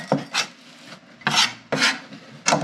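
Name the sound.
grating fresh ginger with a rasp grater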